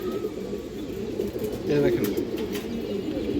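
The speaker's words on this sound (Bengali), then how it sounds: "যে দেখেন ইন্ডিয়ান হাইফ্লার কালদম কবুতর দর্শক।" Soft throaty cooing from Indian high-flyer Kaldom pigeons, a pair kept in a loft, murmuring under someone speaking briefly amid steady background noise.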